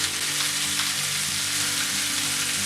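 Spices such as paprika, garlic powder, ground mustard and chili powder being stirred into a pot of chili for a chili cheese dog, giving a steady close sizzle and soft frying hiss without pause.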